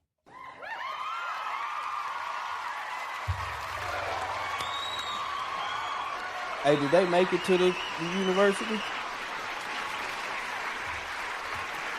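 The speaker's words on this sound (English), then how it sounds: "I'm trying to wait for the applause" Audience applause, a sustained wash of clapping from a crowd lasting the whole stretch, with a voice speaking over it midway.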